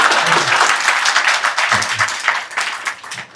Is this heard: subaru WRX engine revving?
no